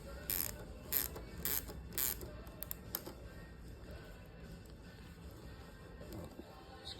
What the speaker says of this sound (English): Disconnect this linkage.